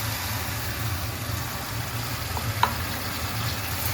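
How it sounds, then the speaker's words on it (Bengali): Fried papaya goes into a spice masala cooking for papaya dum, with a steady, moderate sizzle, one small clink near the end, and no voices. "এখন আমি এখানে ভেজে রাখা পেঁপে দিয়ে দিচ্ছি।"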